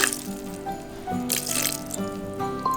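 Mushroom soaking water is poured into a kitchen machine's mixing bowl, a steady trickle with faint drips, close and clear with no talking.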